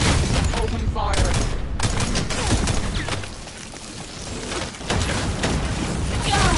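Sustained gunfire rattles through a firefight in The First Descendant shooter game, loud rapid bursts with a brief lull midway before the shooting resumes, with voices mixed in at times.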